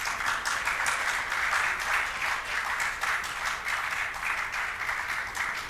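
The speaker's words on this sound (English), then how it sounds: "Can't we clap for us?" Steady applause from a crowd at an awards ceremony, a continuous dense clatter of many hands clapping throughout, fairly loud and without pauses.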